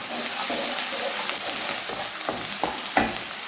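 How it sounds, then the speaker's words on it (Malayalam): Whole and crushed garlic frying in a pan while being stirred, with a continuous close sizzle broken by a few scraping strokes of the spoon. "ചതയ്ക്കാത്ത വെളുത്തുള്ളിയാണ്, ചതച്ചതുമുണ്ട്. ഇനി നമുക്ക് നന്നായിട്ട് ഇളക്കി കൊടുക്കാം."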